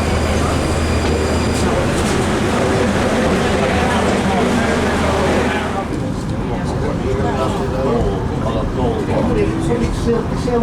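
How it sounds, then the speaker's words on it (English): Tram train bound for Alicante in Spain, heard from inside as a steady loud rumble and rolling rail noise that shifts in tone partway through, continuous throughout. "This tram train is going to Alicante."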